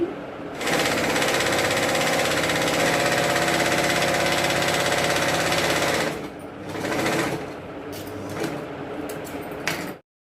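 A sewing machine stitches a fold on a designer blouse, running in one steady, loud whir for several seconds, then in shorter bursts and stops with small clicks.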